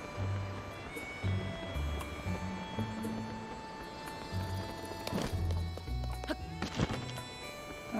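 Horse hooves clip-clop in a video game, a quiet, rhythmic run of hoofbeats with occasional sharper clatters over a low ambient hum.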